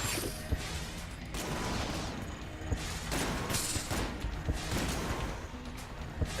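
Rapid gunfire from a weapon in the video game Enter the Gungeon, a dense stream of sharp shots and impacts with occasional louder bursts, continuous and fairly loud throughout.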